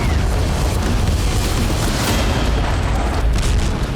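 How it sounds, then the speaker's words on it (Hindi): Explosion from a Ukrainian strike on the industrial zone of Kazan, Russia: a loud, sustained booming roar with a deep rumbling low end that fills the whole four seconds. "यूक्रेन के बारूदी धमाके से कजान का इंडस्ट्रियल जोन दहल गया।"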